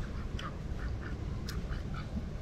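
Ducks at a park pond quack in short, scattered calls, several distinct quacks over a steady outdoor background with no talking.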